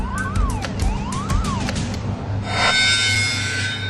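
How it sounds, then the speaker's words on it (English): Electronic alarms in an offshore oil platform control room, several overlapping rising and falling warbling tones followed by a louder steady electronic hiss and tone, close and prominent. "he had witnessed a series of gas alarms that had come up just before the first explosion"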